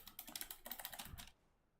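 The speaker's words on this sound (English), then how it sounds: "typing to my Discord" Rapid, steady clatter of typing on a computer keyboard, close and clear, lasting about a second before falling quiet.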